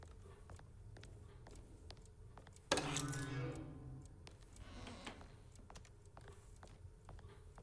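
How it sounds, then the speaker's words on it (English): Old typewriter struck in the survival horror game Alone in the Dark (2023): a short clattering burst with a metallic ring, set against sparse faint ticks and clicks in a quiet room. "Cassandra, I'm touching your typewriter."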